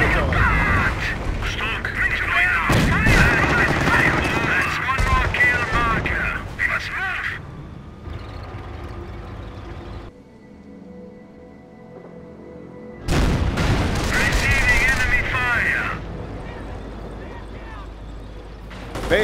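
Gunfire and artillery blasts from the video game Company of Heroes, set in a besieged city, come as dense bursts of shots and booms that drop away midway and then return loud, with game voice lines mixed in.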